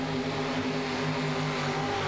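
Big Chevrolet-powered pulling tractor engine at a tractor pull in Owensboro, Kentucky, holding a steady high-RPM roar with strong low harmonic bands, loud and continuous with no voices.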